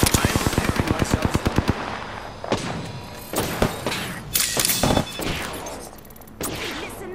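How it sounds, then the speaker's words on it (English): Rapid automatic gunfire from the Apex Legends video game, a loud burst of evenly spaced shots followed by scattered heavier thumps and impacts amid game effects, with a voice briefly heard. "Listen up, I'm getting shot at."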